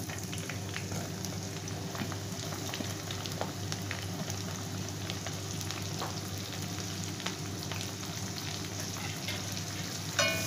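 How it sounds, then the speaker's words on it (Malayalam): Ginger, garlic and green chilies sauté in hot oil for a homemade fish pickle, giving a continuous crackling sizzle with small stirring clicks over about ten seconds. "ആ ഇഞ്ചിയുടെയും വെളുത്തുള്ളിയുടെ ഒക്കെ പച്ചമണം പോകണ വരെ, ഒരു ബ്രൗണിഷ് കളർ ആവണ വരെ നമ്മൾ വഴറ്റി കൊടുക്കുക"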